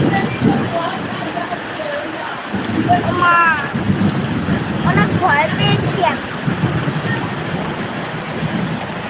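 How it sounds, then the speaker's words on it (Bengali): Steady rain pours down on a village during a thunderstorm, a dense, close hiss of drops running unbroken throughout, with a few faint voices or calls rising briefly through the middle. "বৃষ্টি ফোটা পড়তেছে থাপাস থাপাস"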